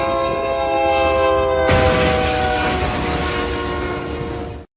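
A loud train horn blast, held steady and close, then giving way to a broad rushing rumble that fades out abruptly at the end.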